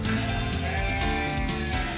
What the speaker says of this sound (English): Markhor is a type of goat.